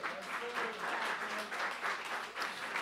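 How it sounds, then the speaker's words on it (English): Church congregation applauding volunteers at a service, moderately loud clapping in uneven swells with some faint voices underneath. "Can we give them a round of applause,"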